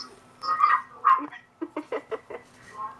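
Dogs bark in a quick series of sharp, loud yaps close by, with a couple of longer whining cries before them, no talking over them.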